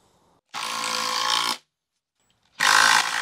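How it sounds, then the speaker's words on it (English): A Makita 18V impact driver drives a screw in two bursts, a roughly one-second rattling whir followed by silence, then a second loud burst starting up, close and alone. "Extra 60 Nm on impact driver are penetrating that screw in with no problems."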